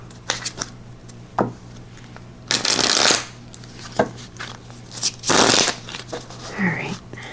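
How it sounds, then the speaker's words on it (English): Tarot cards shuffled by hand: soft scattered taps and slides, then two distinct riffling bursts, each about half a second long, close and crisp with quiet pauses between. "One more shuffle."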